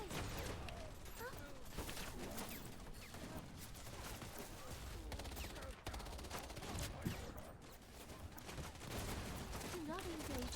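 Dense gunfire from the video game Wild Assault, with overlapping bursts and volleys of shots crackling continuously throughout, mixed with background game noise and occasional voices.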